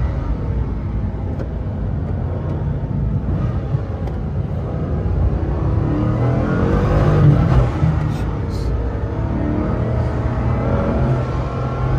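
Bugatti Chiron Pur Sport at high speed, its engine roaring steadily through a full loud stretch with a surge of acceleration and a gear change around the middle, the sound dense and continuous without speech.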